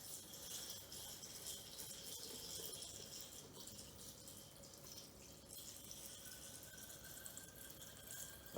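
Water poured into a rock tumbler barrel over rocks, a faint steady trickle and splash with light dripping and small rattles, no voices.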